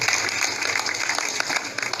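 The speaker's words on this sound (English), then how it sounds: "Please, another big round of applause for him." Crowd applause at an Omoyele Sowore Take It Back Movement rally in Abuja, dense steady clapping from many people, fairly loud and continuous throughout.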